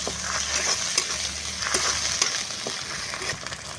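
Ginger-garlic paste, chopped tomato and onion with spices frying and being stirred in a pan for a village-style aar fish curry, a steady close sizzle with scraping stirs throughout, no talking.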